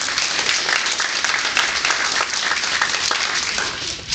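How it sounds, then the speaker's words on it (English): An audience at a State of the 6th district speech gives itself a round of applause, dense continuous clapping at close range that tapers slightly at the end. "Again, give yourselves a round of applause."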